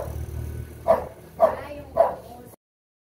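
A dog barks three times at an even pace, moderately close and loud, over a low household background hum before the sound cuts off.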